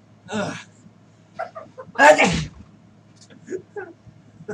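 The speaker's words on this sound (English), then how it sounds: "I've sneezed on camera for the first time." A single sudden sneeze bursts out during a casual podcast chat, loud and close, with short voiced sounds before and after it.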